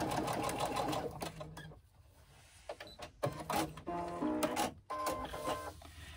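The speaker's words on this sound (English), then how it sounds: "If you don't have one, then just baste the seam" A sewing machine runs in quick bursts of rapid stitching while basting a seam, stopping and starting several times with brief pauses, close and fairly quiet.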